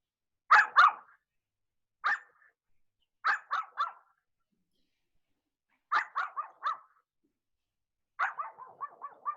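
A dog barks in short bursts of two to five sharp barks, fairly close and alone, with quiet pauses between the bursts during an outdoor aikido practice.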